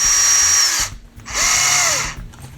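A power drill drives two long screws into an RC buggy chassis during a Losi TLR 22 build, two close, loud whirring bursts separated by a short pause.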